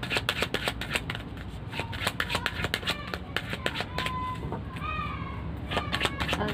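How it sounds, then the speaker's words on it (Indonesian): Playing cards are drawn and shuffled in a tarot-style reading, giving rapid crisp flicks and riffles close up, with occasional faint bird calls in the background. "Kita ambil dua kartu lagi."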